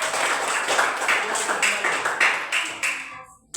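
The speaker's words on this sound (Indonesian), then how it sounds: "kalau kita tepuk tangan untuk kelompok" Students applauding a group in a classroom, a burst of dense clapping that thins out toward the end and stops, close and loud.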